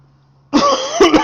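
A single harsh cough bursts out close up after a faint hum, followed by a couple of shorter coughing catches.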